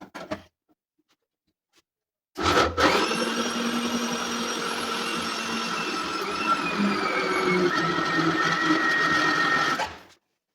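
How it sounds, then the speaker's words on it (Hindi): After a short click and a pause, a mixer grinder grinds a paste with water, whirring loudly and steadily for several seconds up close, then cuts off. No talking. "इसमें पानी डाल लेना चाहिए तो मिक्सी अच्छे से ग्राइंड करती है"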